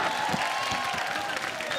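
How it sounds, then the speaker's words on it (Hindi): Studio audience at a Hindi comedy show applauding steadily, a dense wash of clapping and crowd noise throughout, with faint talk over it. "रिया सेन भी बड़ी तालियां बजा रहे तुम लोग"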